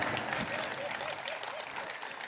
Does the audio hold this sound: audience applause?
yes